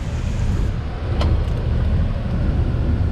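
A 2023 Honda Odyssey wheelchair van's engine started by push button, a low steady idle hum settling in right away, close and fairly loud, with a brief faint click around the start and no voices.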